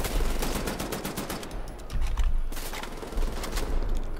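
Sustained automatic gunfire in Wolfenstein The New Order, rapid loud repeated shots nearly continuous across the clip, with brief gaps between bursts.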